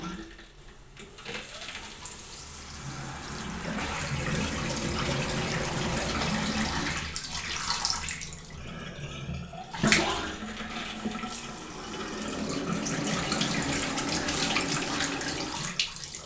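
Bathroom vanity faucet with its aerator removed runs steadily for several seconds, the stream sputtering and spitting as trapped air clears, with one brief louder burst partway through, close and even.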